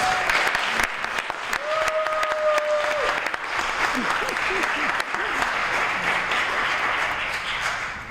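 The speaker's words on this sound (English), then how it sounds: "Let's give them a round of applause." Audience applause for the panelists at the close of an evening event on women and immigration, a dense, steady wash of clapping from a sizable crowd, with a brief voice and a whistle-like tone early on.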